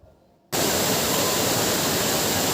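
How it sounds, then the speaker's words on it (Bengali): A waterfall at a riverside temple ashram near Guwahati bursts in after a brief quiet moment, then roars as a loud, dense, unbroken rush of falling water. "তোমরা ঝর্ণার আওয়াজ শুনতে পাচ্ছ।"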